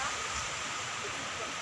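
Steady broad wash of ocean surf at Sirombu beach, a continuous rushing roar with no distinct breaks, heard from a distance.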